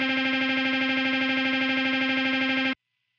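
An electric guitar chord through a Line 6 Helix echo reverb sustains loudly with a rapid, rhythmic pulsing texture, then stops sharply after under three seconds.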